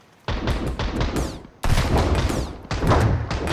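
Enemy gunfire in the survival game Sunkenland, loud and sustained, with dense overlapping bursts and thuds that break off briefly near the middle and then resume.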